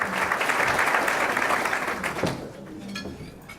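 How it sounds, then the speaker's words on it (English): An audience applauds at a public event, with dense clapping that holds steady for about two seconds and then fades quickly into a quieter hall. "Give him a round of applause."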